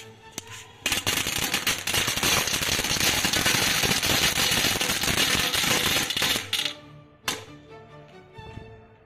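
A Sunshine brand popcorn (chatar patar) firecracker crackles in a dense, loud burst of rapid pops lasting about six seconds, then sputters into a few scattered late snaps and fades out.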